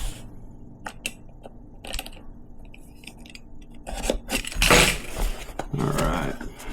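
A dull blade cuts through packing tape on a cardboard box, with scattered clicks and scrapes leading into louder ripping and crunching bursts toward the end.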